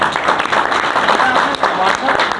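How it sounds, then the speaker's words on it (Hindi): Clapping from a gathered group for a woman named Priyanka, a steady patter of hands across the whole stretch, mixed with some voices. "प्रियंका के लिए ताली बजाओ भाई।"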